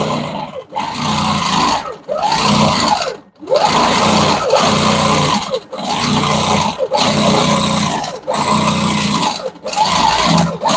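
A longarm quilting machine stitches a quilt in loud, steady motor bursts of high-pitched whirring, each a second or two long, broken by brief pauses and with speed changes between passes.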